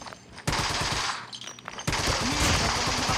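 Rapid automatic M4 rifle fire in the mobile shooter Call of Duty Mobile, battle royale mode, two loud sustained bursts with a short lull between them, close and dominating.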